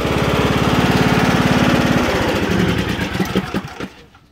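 Running John Deere lawn mower engine, raised on jacks, droning steadily up close, then winding down and sputtering to a stop as it is switched off.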